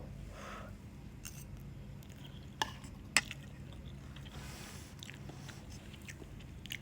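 Someone eats cooked noodles, with faint close chewing, slurping and a couple of sharp utensil clicks in a quiet room.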